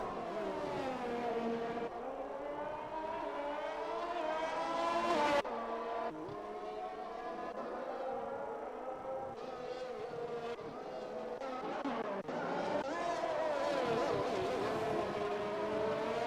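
A McLaren race car in a racing video game, its engine whining at high pitch as it passes and other cars buzz nearby, a steady layered drone of several engines.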